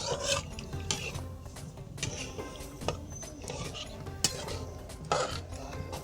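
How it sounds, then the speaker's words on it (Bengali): Semolina stirred in ghee in a pan: dry, gritty scraping strokes of a spoon against the metal repeat in an uneven rhythm at close range, with occasional clinks. "সুজিটা দিয়ে এইভাবে নাড়বো, না হলে সুজিটা দলা দলা পাকিয়ে যাবে।"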